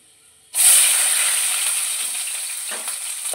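Chopped onions hit hot white oil and ghee in a wok with an abrupt loud hiss, settling into a steady bright sizzle that fades only slightly, with no voices over it.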